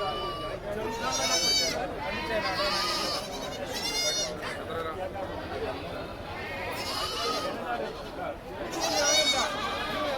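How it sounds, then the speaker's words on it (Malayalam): Repeated loud goat bleats, several animals calling one after another, over a busy background of people talking at the goat market in Chattiparamba. "ആട് മാർക്കറ്റാണ് നമ്മൾ കണ്ടുകൊണ്ടിരിക്കുന്നത്"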